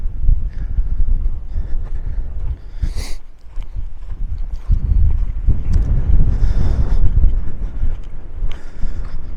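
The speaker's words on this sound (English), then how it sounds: "Bit of a windy trail." Strong gusting wind buffets the microphone on a trail at Red Rocks Canyon, California, with low rumbling roars that rise and fall, along with occasional footsteps and scuffs.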